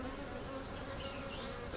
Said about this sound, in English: So, there are bees on the front of this thing fanning.